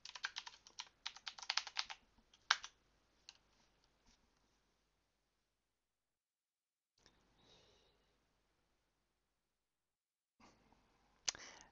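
A password is typed on a computer keyboard. A close burst of rapid key clicks comes first, then a few scattered taps and a long quiet gap, and a final couple of keystrokes near the end.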